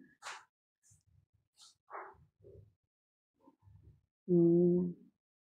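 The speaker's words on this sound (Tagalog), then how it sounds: "May aso pa" A single short dog bark rings out near the end, following a stretch of quiet, scattered faint sounds in Quezon Memorial Circle park.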